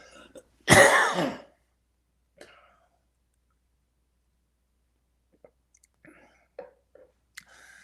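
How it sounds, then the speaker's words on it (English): One loud, rough cough and throat clearing up close, followed by quiet pauses and a few faint mouth clicks and soft breaths. "I have to cough for a minute"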